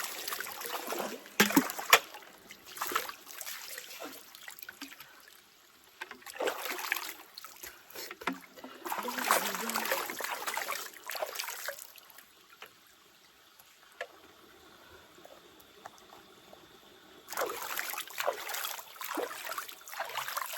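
River water splashing and trickling outdoors in irregular bursts during bathing in Jamaica, with quieter flowing stretches between louder splashes.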